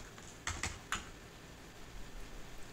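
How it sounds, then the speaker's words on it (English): Three quick, light key presses on a computer keyboard set to the Dvorak layout, clustered near the start and followed by quiet room tone; faint and close. "But if I go onto the Dvorak keyboard that I just made and I follow the lettering scheme,"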